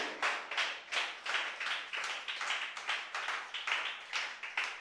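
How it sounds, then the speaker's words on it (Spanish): A church congregation claps in a strong rhythmic beat, evenly spaced hand claps repeating steadily, faint and somewhat distant. "Dale un aplauso fuerte al Señor en esta noche."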